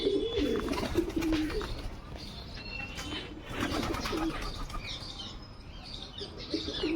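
Pigeons coo steadily among rows of pigeon boxes, soft low throaty calls repeating close by amid light chirps and rustling, with a faint bustle of background activity throughout.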